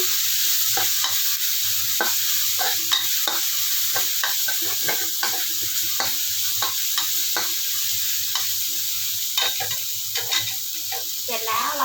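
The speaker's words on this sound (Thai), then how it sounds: "แล้วก็ผัดให้หอม" Shrimp paste stir-fried in a hot pan, with continuous sizzling and repeated scraping strokes of a spatula against the metal, close up and loud.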